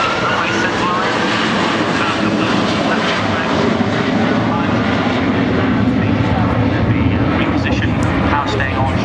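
Boeing 757-200 jet aircraft rolling down the runway at an air show, a loud, steady engine roar that fills the whole stretch with a broad rumble, with a commentator talking over it.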